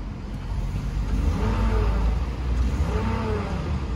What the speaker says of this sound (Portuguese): Tem uma coisa chorando aí no motor.